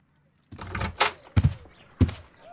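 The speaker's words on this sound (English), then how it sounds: "No, I just heard the front door." A front door opens in the Sherlock Holmes: Crimes & Punishments video game. Several close, solid thunks and clunks sound in an uneven sequence, with a faint creak between them and no speech.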